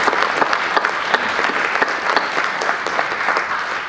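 A basketball team clapping and cheering at practice, dense rapid claps with scattered shouts filling the whole stretch at steady close range.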